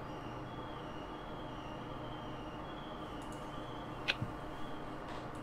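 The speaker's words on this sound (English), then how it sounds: "there's a noise outside that sounds somewhat like an alarm and somewhat squeaky, and I think it's a train's brakes" Train brakes squeal outside, heard as a faint, thin, steady high squeal over a low distant rumble, with one brief sharp click near the end.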